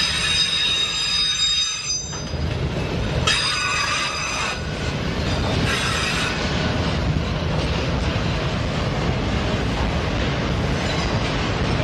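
A freight train with BNSF auto rack cars rolls past close by: a loud, continuous rumble of wheels on rail, with high metallic squeals rising and fading throughout.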